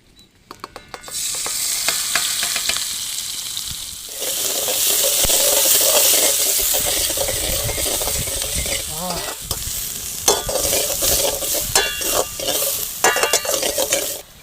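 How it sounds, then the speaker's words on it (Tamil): Chopped onion hits hot oil in a pan and sizzles loudly for an egg yolk fry cooked outdoors in a village, with a spoon scraping and stirring in quick bursts over the steady frying hiss. "எண்ணெய் காஞ்சிருச்சு. வெங்காயம் சேர்த்துக்கலாம்."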